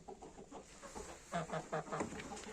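A well-built, plump hen clucks nearby, a quiet start giving way to a rhythmic series of five or six short, distinct clucks, fairly soft overall.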